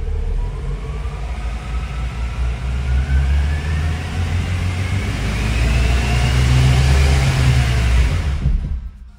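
Ford Fiesta with a CVT automatic gearbox driving after a gearbox repair, giving a steady loud low engine and road drone with a faint whine rising in pitch as it speeds up, then cutting off abruptly at the end.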